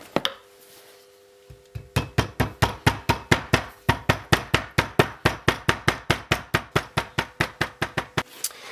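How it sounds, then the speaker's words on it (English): A new seal hammered home into the rear hub carrier of a Lotus Elan M100, with a long run of sharp, evenly spaced metallic taps, close and loud, around thirty blows in steady rhythm. "Then drop the inner bearing into position and tap home a new seal."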